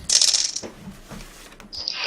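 Dice roll and clatter on a table during a Shadowrun tabletop session: a bright rattling burst at first, then a few quieter taps and a final short clatter, close and clear.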